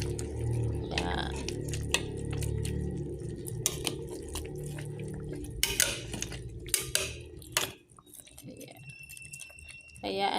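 Chicken curry with curry powder is stirred in a pot, giving faint scraping, clinks and taps of a utensil against metal that continue steadily, with a voice speaking over part of it.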